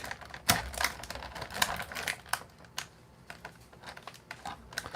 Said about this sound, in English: I always like to cut the back bigger so that it doesn't get stuck